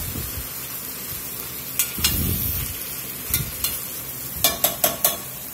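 Chicken stirred and scraped in a sizzling skillet while making Louisiana chicken sauce piquant: a steady fry hiss with scattered sharp clicks and scrapes of a utensil against the pan, clustering in quick taps near the end.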